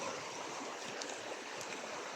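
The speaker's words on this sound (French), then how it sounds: "Normalement, vous avez un petit son de notre jolie petite cascade ici." A small waterfall and its stream current give a steady, faint rushing of water outdoors, with no talk over it.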